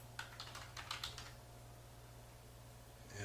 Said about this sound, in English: We do that by clicking on Search, type in Windows Firewall